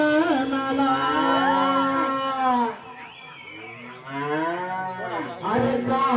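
A cow lows in long, drawn-out moos, loud and close, with a brief dip and then another sustained call, heard amid a Marathi folk comedy stage performance.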